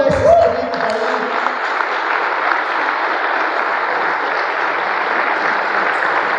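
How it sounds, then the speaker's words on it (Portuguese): An audience in a church applauds, a broad, sustained wash of clapping hands that swells up after a brief voice at the start and keeps going evenly to the end. "Aplaudam esses queridos aí."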